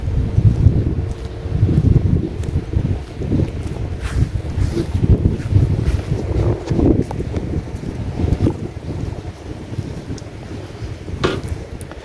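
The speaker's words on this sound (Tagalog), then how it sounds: "Sarap magpahinga dito, lakas ng hangin" Strong wind blowing through trees at a memorial park, a loud, continuous rumbling buffet against the microphone with gusting surges and no speech.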